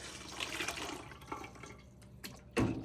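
Chicken broth pours through a fine mesh strainer lined with two layers of cheesecloth, giving soft trickling and dripping with a few splashes and a louder sloshing pour near the end.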